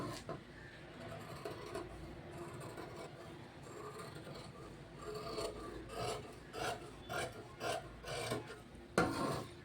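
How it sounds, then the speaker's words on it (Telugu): Scissors cutting blouse fabric on a tailoring table make a soft, close rasping sound, rising into a run of rhythmic snips near the end with a sharper knock at the finish. "ఇప్పుడు నీట్గా కట్ చేసుకుందాం"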